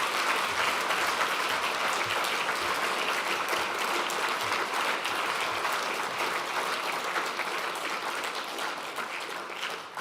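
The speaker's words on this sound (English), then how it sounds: "You got the longest clap of the day." Sustained audience applause fills a conference hall at the Co-op Congress, a dense, steady roar of many hands clapping at close range that continues without pause and only slightly eases near the end.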